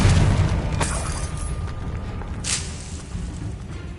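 A Confringo spell explodes in the video game Hogwarts Legacy with a loud, booming burst that fades into a rumbling tail. A second, softer blast follows a few seconds later.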